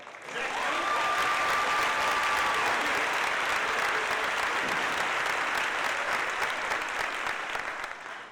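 Steady, dense applause from a large crowd at a class day ceremony fills the whole stretch, loud and sustained, easing slightly at the very end; a brief tone rings early on.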